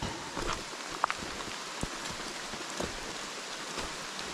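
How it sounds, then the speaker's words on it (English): Rain falls steadily on the trees of a Vermont forest near Baker Peak, a soft continuous hiss with scattered louder drips hitting leaves nearby, and no one speaking. "Okay, we are working through our daily rainstorm. Luckily the trees are protecting us from it a bit."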